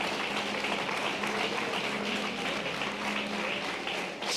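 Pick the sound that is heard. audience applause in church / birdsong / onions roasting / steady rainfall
audience applause in church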